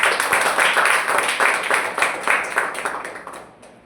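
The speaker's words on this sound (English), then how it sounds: "Can we please welcome her with a tremendous applause?" Audience applause welcoming a speaker at a Toastmasters meeting, a crowd of hands clapping in a lively burst that holds steady and then tapers off toward the end.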